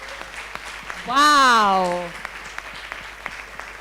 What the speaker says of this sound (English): Let's please give them a huge round of applause.